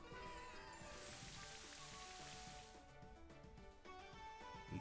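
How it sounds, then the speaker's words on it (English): Rain Dance move in a Pokémon video game, giving a dense, steady hiss of falling rain that thins out partway through, faint and without talk. "I think we just click Rain Dance here."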